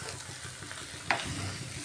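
Chicken and chickpeas sizzle steadily as they are stirred and fried in a wok for ghugni, with a constant hiss and one sharp scrape of the spoon partway through.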